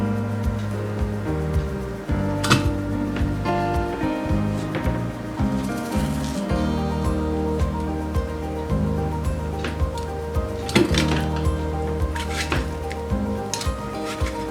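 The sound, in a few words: mashing banana and mango with a fork in a bowl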